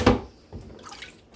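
Water splashes and trickles while crab legs are rinsed, a sharp slosh at the start followed by softer dripping and running water, close by with no talking.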